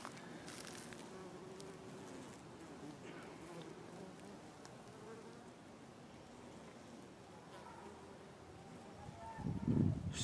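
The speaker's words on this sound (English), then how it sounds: "So many different bees right here." Bees buzzing steadily around a patch of wild flowers outdoors, a soft, continuous drone close by, with a louder thump near the end.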